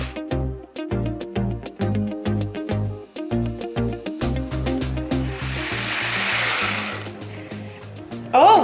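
An electric mixer fitted with a whisk attachment whips a coffee mixture, running loud and steady with a rhythmic pulsing churn that builds into a dense whirring roar before cutting off.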